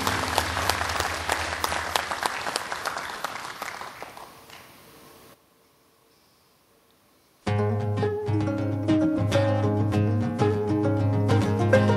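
An audience at a Lions service awards ceremony claps, dense and loud at first, then fading out to near silence before music for a celebratory stage performance starts up strongly.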